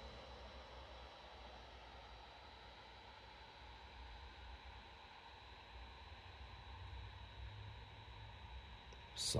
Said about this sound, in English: And this is the fan noise.